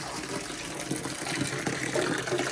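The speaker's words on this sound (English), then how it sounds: "So I'll just run the hot soapy water so I can wash it out as I go along." Hot soapy water running from a kitchen tap for cleaning out a fridge, a continuous close, steady gushing stream that fills the whole span.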